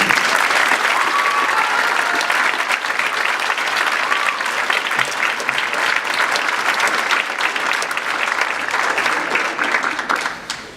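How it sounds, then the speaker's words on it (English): A school concert awards night audience gives a long, steady round of applause, dense crowd clapping holding evenly for about ten seconds before tapering off at the end. "let's give him a round of applause."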